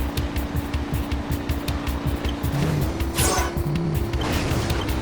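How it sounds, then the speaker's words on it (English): Game car in Jak 3 speeding over rough desert terrain, hitting a rock and flipping, with a rhythmic engine chug, repeated thumps of impacts and a brief crash burst midway, loud throughout without talk. "So like, it can just hit a rock and flip."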